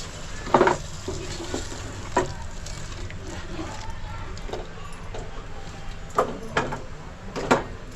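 Masala paste sizzles softly in a kadhai over tomatoes while a spoon scrapes and stirs it, giving several sharp clanks against the metal above a low, steady frying hiss.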